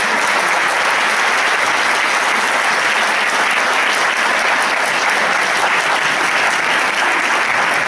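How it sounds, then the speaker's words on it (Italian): A crowd at a political campaign tour event in a hall gives loud, continuous applause, a thick unbroken patter of many hands sustained at full volume throughout. "Un grande applauso direi a tutti quanti"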